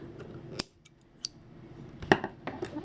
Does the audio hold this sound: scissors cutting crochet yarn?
yes